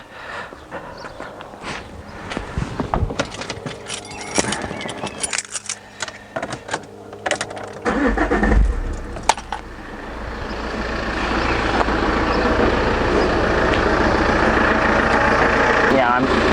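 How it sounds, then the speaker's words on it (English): A Saab 9-3 car engine cranks and catches about halfway through, then settles into a steady, fairly loud idle that continues to the end. Clattering handling noises and some talk come before the start. "let's start the car and see what happens"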